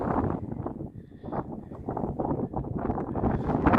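Gusty wind buffets a tent campsite on Dartmoor at Great Staple Tor, rough low rumbling surges rising and falling in quick bursts right against the microphone.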